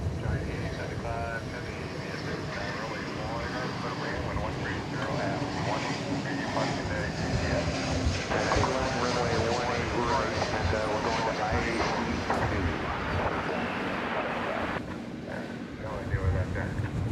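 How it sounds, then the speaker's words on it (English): A Boeing 747 jet airliner approaching to land at DFW Airport gives a steady, broad engine roar heard from a distance outdoors, with a person talking over it throughout. "we've got another Queen of the Skies about ready to touch down over here"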